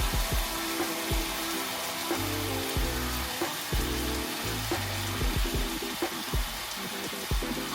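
Teriyaki sauce hits tofu in a hot pan with a loud, steady sizzle and crackle, with low bubbling pops and soft scraping underneath, close up and without talk.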